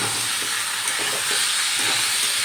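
Chicken stew is stirred in a pan, giving a continuous soft sizzle and hiss with light, irregular scraping under it, close by and without any speech.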